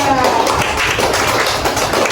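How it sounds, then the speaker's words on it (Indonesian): Elementary school classroom applause for a student group, a dense, lively patter of many small hands clapping at once, close and loud. "beri tepuk tangan untuk kelompok 2"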